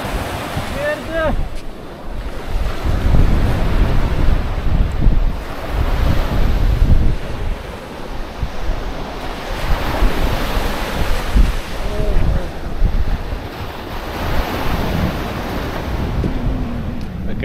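Strong wind blowing at the seashore with surf rolling in, a steady loud roar and buffeting on the microphone throughout, while people talk now and then beneath it.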